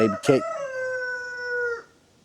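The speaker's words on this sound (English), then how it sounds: "Baby Cake's put a rooster in a cage." A caged rooster crows once nearby, a long drawn-out call held for over a second at an off-grid cabin during a hard freeze, with a brief voice or noise just before it.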